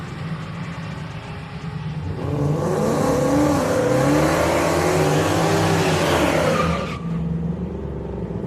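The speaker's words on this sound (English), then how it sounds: "I hear a turbo car back there." A turbocharged car engine revs up hard with a rising whine and a burst of broadband roar, nearby, then drops back to a low idle rumble, at a street night event at Houston Raceway Park.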